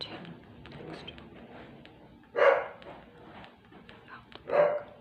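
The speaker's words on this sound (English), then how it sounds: "by the puppies and dogs barking." Two loud barks a couple of seconds apart stand out over a low, busy background with faint distant puppy yips from about ten dogs next door, near a construction site.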